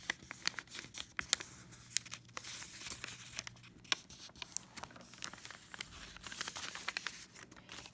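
Paper folded along lines for a classroom activity, with close, sharp crinkles and creases in irregular bursts over a quiet background.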